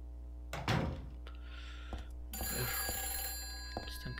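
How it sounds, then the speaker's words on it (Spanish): A telephone rings in the survival-horror game Silent Hill 3, repeated bell-like trills over a low hum, with a few thuds and knocks scattered between rings, no talking. "Contestamos el teléfono."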